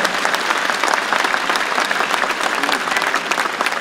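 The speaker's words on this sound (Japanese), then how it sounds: "準決勝まで進まれた選手の皆さんにどうぞ今一度大きな拍手をお送りください。" A large audience applauds semifinal competitors at the 36th Mikasa Cup All Japan DanceSport Championship, a loud, dense, steady wash of clapping with no break.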